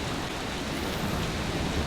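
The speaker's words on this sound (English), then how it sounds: "Oh, it started raining? Good rain effect." Steady rain from the video game Brok the Investigator, a dense, even hiss of falling drops with a low rumbling undertone, constant and fairly soft, without speech.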